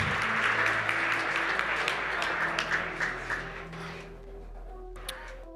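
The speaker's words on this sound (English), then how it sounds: "Please, everybody, a big round of applause for everybody who has helped put this on" A crowd at a LAN event applauds with dense, steady clapping that gradually thins and fades toward the end.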